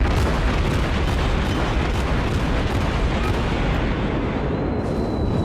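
A Chester cruiser's naval guns firing in World of Warships, a dense, continuous barrage of heavy booms and rumble that stays loud from start to finish with no pauses.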